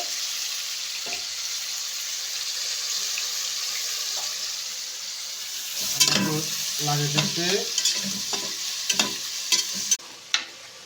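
Garlic frying in a pan, starting as a steady sizzle, then rough stirring with scraping and clattering of a utensil as the hiss continues, with no voices.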